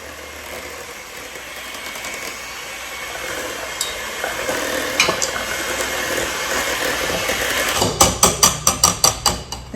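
Hand mixer beating lemon pound cake batter in a kitchen bowl, a steady close motor whir with rattling, followed by a string of sharp rhythmic knocks as the beaters strike the bowl.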